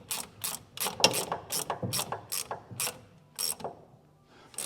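Ratchet wrench tightening body bushing nuts on a Trans Am during a body bushing job, a quick run of crisp clicking strokes in short bursts with brief pauses, close up and alone.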